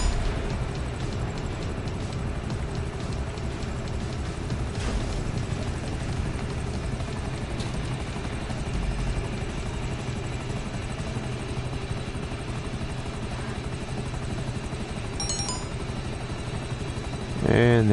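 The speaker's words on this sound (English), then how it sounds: "This helicopter has more armor than the freaking plane that they spawned me with." A helicopter in GTA V, smugglers run hangar resupply mission, flies with a loud, steady rotor and engine drone that continues throughout, with faint game effects near the end.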